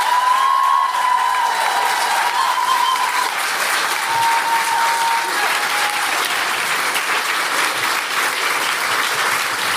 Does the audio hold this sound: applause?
yes